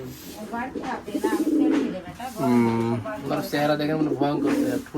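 Rajshahi Giribaz pigeons coo in low, rolling calls close by while someone talks over and between them.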